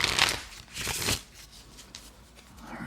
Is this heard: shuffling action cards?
yes